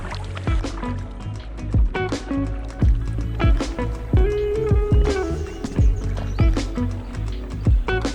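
Kayak paddle strokes splashing and knocking against water in a steady rhythm, close by, with a low hollow rumble underneath, in Bai Tu Long Bay, Vietnam.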